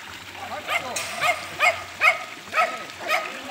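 A dog outdoors in a garden, giving a series of about six short barks or yips at a fairly regular pace over low background noise.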